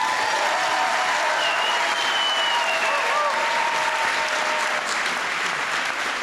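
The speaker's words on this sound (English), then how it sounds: "Another big round of applause for Dr. Randall." Sustained applause from a graduation ceremony audience, a dense, even wash of clapping that holds at a steady loud level throughout, with faint cheers or whistles above it.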